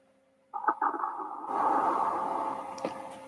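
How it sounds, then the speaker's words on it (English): A sudden tonal sound effect rings out and then blooms into a long, washy echo tail, heavily reverberant as if in a huge space. "we might have overdone a little bit of the room size on the reverb"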